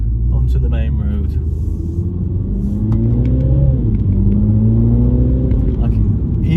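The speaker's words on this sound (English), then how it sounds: "even when you don't put your foot down hard, obviously it revs quite high" A Mini Cooper JCW revs high while driving on a main road in cold weather, a steady loud engine drone with rising and falling harmonic sweeps as it pulls through the revs, continuous throughout.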